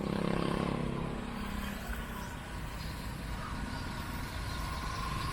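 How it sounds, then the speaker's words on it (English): A brand-new Honda GX motor drives a rice thresher during a harvest in the Philippines, a steady loud mechanical drone that runs continuously close by without letup. "look at the machine, the motor engine that he's using, brand new, Honda GX"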